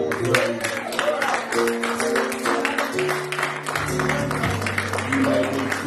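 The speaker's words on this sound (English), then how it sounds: "give the Lord a hand clap of praise" A church congregation at a worship service claps in praise, with dense, continuous applause over sustained music.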